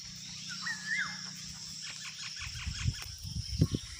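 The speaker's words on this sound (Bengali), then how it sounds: "তোমরা শুনতেই পেলে পাখির আওয়াজ" A few short bird calls early on, followed by soft rustling and low thumps nearby; the calls are faint and sparse.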